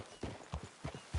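Horse hooves clip-clop on a trail toward town in Red Dead Redemption 2, a quiet, even rhythm of about five soft thuds at a walking pace.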